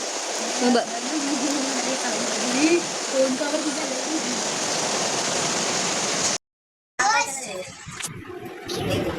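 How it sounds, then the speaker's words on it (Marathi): Heavy monsoon rain pours down steadily in a dense hiss, with a voice and other chatter heard faintly over it before a short cut and some closer sounds. "किती दिवसानंतर आज सगळ्यात जोरात पाऊस पडतोय"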